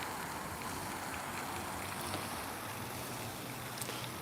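A waterfall in full flow gives a steady, dense broadband roar of rushing water, constant and fairly close throughout, with no voices over it.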